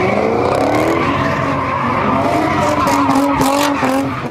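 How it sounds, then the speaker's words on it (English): Four cars spin doughnuts in the intersection of Gowan and Grand Canyon during a New Year's street takeover, tires squealing and screeching loudly and continuously over revving engines, the pitch of the squeal wavering as they circle. "In front of cheering spectators, four cars do doughnuts in the intersection of Gowan and Grand Canyon."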